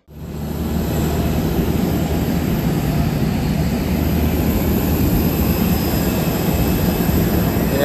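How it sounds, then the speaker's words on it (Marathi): Jet engines of an Air India Vistara Airbus airliner give a loud, steady, unbroken roar that starts abruptly and holds at full strength throughout, with no talk. "हे आमचं विमान एअर इंडिया AI 2954 विस्ताराचं आहे। हे बघा एअरबस असं विमान आहे।"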